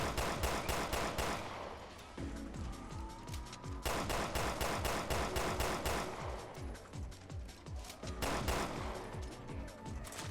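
Rapid bursts of gunfire from Resident Evil Revelations 2 Raid Mode, loud and close, coming in several dense volleys of repeated shots with short pauses between them.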